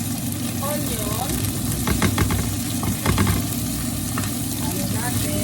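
Onion sautés in a hot pan, a steady close sizzle with stirring scrapes and a low background hum, under occasional talk.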